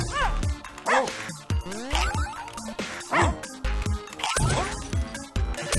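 Dogs bark, yip and whimper in the Russian Subway Dogs video game, a busy run of sharp, close barks with rising and falling yelps and occasional crashing game effects.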